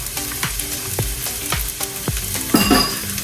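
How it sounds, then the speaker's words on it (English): Hamburger fried rice with an egg cooking in a pocket in the pan, a constant close sizzle punctuated by regular spatula taps and scrapes roughly every half second, no talking. "with the pocket you add the egg, and you want that egg to cook"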